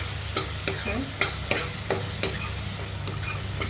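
Tomato sautés in a pan with a steady, loud sizzle of frying, broken by sharp scraping strokes as a spoon stirs it repeatedly up close.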